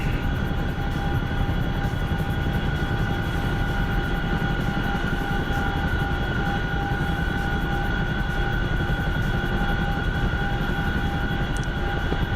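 Steady, loud aircraft engine drone in flight, continuous and close throughout with sustained tonal hum from a video game flight session.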